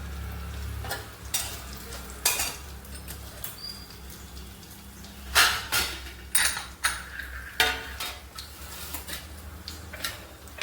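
Cashews and ginger fry in a pan with whole cumin and dried red chillies, a soft sizzle under repeated scraping and stirring strokes and occasional clinks, near and moderately loud, with no talking.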